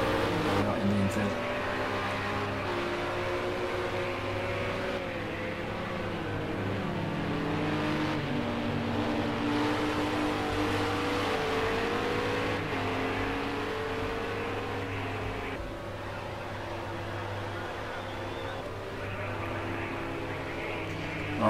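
Ginetta GT4 race cars on the Daytona road course, heading over the finish line into the infield, drone with a steady engine roar and shifting revs throughout, while a commentator talks over the noise.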